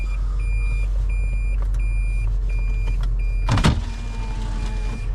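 A car backs up in snow, its engine humming low and steady while a reversing chime repeats in regular intervals, with a brief louder thud partway through.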